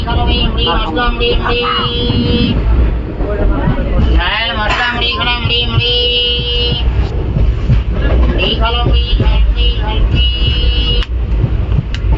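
A train running, its steady low rumble and rattle filling the background while people talk nearby over the continuous noise.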